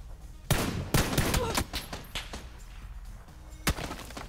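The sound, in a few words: warning gunshots fired in a video game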